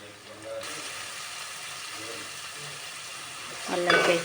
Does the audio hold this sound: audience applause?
no